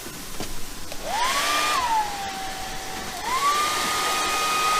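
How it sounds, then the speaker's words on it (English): A hair dryer whirs steadily, warming a grain moisture tester in cold winter weather. Its pitch rises as it starts up, dips, then climbs again, and it stays loud and close. "he has to use his hair dryer to heat it up"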